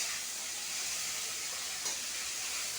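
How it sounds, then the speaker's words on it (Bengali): Hot water poured into frying masala for a rohu fish curry gives a steady, dense steaming hiss that holds evenly throughout, with a brief brighter spurt near the end and no voices. "তেল ছেড়ে দিয়েছে, এবার জল দিয়ে দিচ্ছি।"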